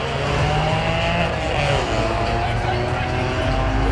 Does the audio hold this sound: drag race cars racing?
yes